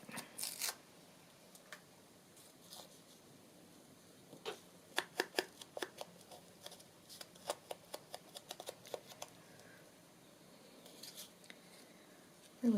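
Card being trimmed for a butterfly envelope stack papercraft project: a series of short, crisp snipping or cutting clicks in quick irregular bursts, fairly quiet and close, with no talking.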